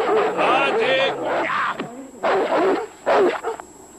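Agitated dogs yapping and yelping in short harsh bursts, close by, with a brief whimper between the outbursts, from the film The Call of the Wild.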